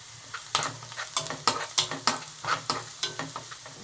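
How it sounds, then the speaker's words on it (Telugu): Sliced onion and green chillies frying in oil in a pan while being stirred, with repeated scraping stir strokes in a steady rhythm over a soft, constant sizzle, close up with no talking. "ఆనియన్ లైట్ గోల్డెన్ కలర్ వచ్చాక ఇందులో 2-3 పచ్చిమిర్చిని కట్ చేసి వేసుకోవాలండి."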